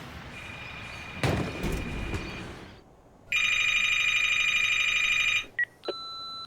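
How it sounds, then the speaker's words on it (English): A telephone rings in a steady electronic tone burst lasting about two seconds after a brief noisy passage, followed by a couple of short beeps, clear and fairly loud with no talking. "we just couldn't get to the phone. Look, we had 7 or 8 rings"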